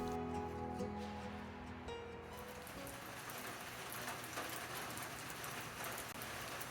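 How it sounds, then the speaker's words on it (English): Rain has just started falling in the country near the Willamette Valley. It gives a dense, steady patter of drops on surfaces, faint and even, and a soft hum fades out in the first couple of seconds. "Just started raining"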